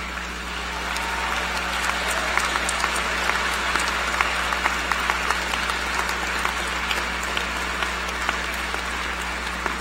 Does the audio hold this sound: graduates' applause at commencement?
yes